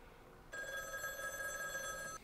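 Telephone ringing in the 1978 film Invasion of the Body Snatchers, a steady electric bell ring starting abruptly and sustaining for under two seconds, fairly faint against a quiet background.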